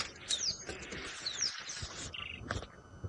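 A small bird calls from a treetop during an evening safari drive, sharp repeated chirps and rising whistles sounding out over steady outdoor background noise.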